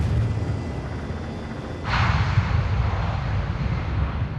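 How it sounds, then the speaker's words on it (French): An aircraft taking off right after a test landing, its engine roar swelling suddenly into a loud, sustained rush that stays close and steady to the end. "Pour un deuxième test, l'appareil décolle aussitôt."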